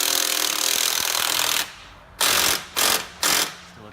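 Wrench work on a Porsche 996 sport exhaust install, with a continuous broadband grinding, rasping noise for about a second and a half, then quiet, then three short separate bursts of ratcheting or scraping.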